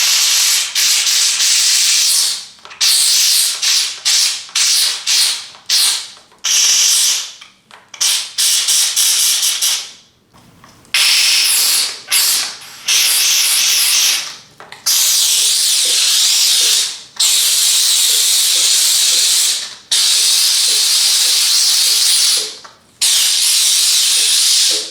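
A GROBELL steam cleaner blasts grime off a surface with loud, close hissing in repeated bursts of a few seconds each, separated by short silent gaps.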